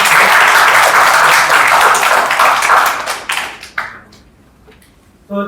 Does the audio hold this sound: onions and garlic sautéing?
no